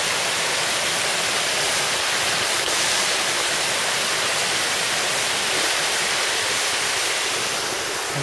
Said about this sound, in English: On top of the waterfall.